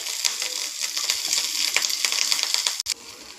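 Crushed garlic, curry leaves and onion fry in a tempering for alasande kalu sambar, producing a dense, crackling sizzle close by with a brief sharp dropout near the end.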